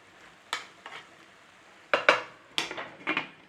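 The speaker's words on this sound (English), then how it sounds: "Give it a stir." Vegetables for a Woolton pie stirred in a frying pan, a spoon scraping through them in several distinct sweeps with short pauses between, close and moderately loud, a soft sizzle underneath.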